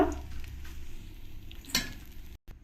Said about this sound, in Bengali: বাকি যে পুঁটি মাছগুলো আছে ওগুলো আমি একইভাবে ভেজে নেবো